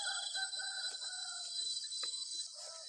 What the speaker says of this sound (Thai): ได้ยินเสียงขันอยู่